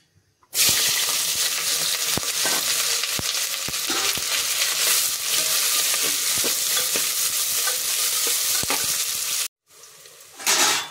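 Onions hit hot oil in a pan while cooking mutton kasa and sizzle loudly and steadily, with the scrape of a stirring spoon ticking through, before the sizzle cuts off briefly near the end.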